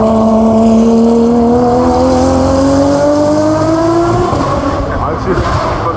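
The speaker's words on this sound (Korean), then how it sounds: "여기는 이제 페라리들이 모여있는 599XX 에보. 요 차 소리가 살벌하더라고." A Ferrari 599XX Evo engine at a car show, revving loudly and close with a steadily rising pitch that then drops off, while people talk nearby.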